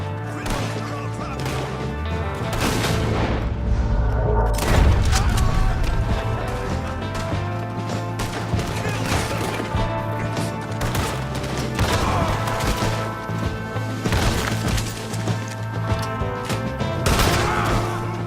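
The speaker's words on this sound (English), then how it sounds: "We got one shooting from the tower!" Rapid bursts of gunfire crackle through a Red Dead Redemption 2 shootout, loud and dense over a constant rumbling backdrop, with shots layered near and far across the whole stretch.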